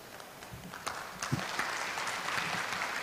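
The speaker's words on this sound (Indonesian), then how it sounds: "Tepuk tangan lagi Bapak Ibu dan para hadirin." Audience applause at a university rector candidates' debate builds from light scattered claps into a fuller, steady round in a hall, fairly distant and moderately quiet.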